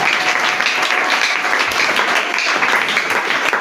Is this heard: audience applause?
yes